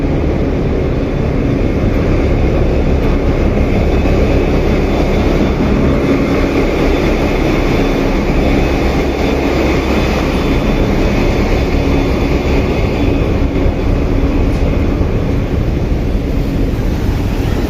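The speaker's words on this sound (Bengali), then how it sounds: "এই হচ্ছে প্রপেলার থার্স্ট" Propeller thrust and engine of the Doyel Pakhi 8 passenger launch running at 500 RPM, heard as a loud, continuous, close rumbling roar from the engine room that stays even throughout with no pauses and no speech.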